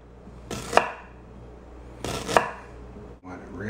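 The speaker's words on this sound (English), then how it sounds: "Then we'll slice up the ginger." Ginger sliced thin with a knife on a cutting board, two sharp close chops about a second and a half apart with quiet pauses between, no talking.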